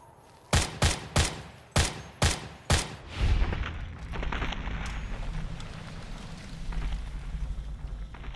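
Gunfire in the Fallout: New Vegas video game: six sharp, loud shots in a quick, uneven volley, followed by a lingering rumbling tail and low background noise.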